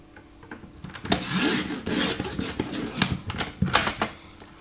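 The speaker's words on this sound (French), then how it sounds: "il découpe plus très bien mon massicot" A worn paper guillotine trimming a 3 cm fabric tab for a sequined A6 binder, making close, repeated rasping and rubbing strokes with sharp clicks, irregular and fairly loud, with no talk.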